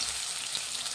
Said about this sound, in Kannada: ಈರುಳ್ಳಿ ಸ್ವಲ್ಪ ಫ್ರೈ ಮಾಡಿ.